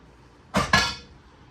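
A lid is set onto a cooking pan with two quick metallic clinks close by in a quiet kitchen, no talk over it.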